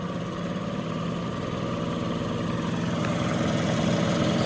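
A steady, loud mechanical whir and hum from a Sun 400 distributor test machine spinning an HEI distributor at raised RPM, the pitch holding constant and gradually growing slightly louder, with no talking.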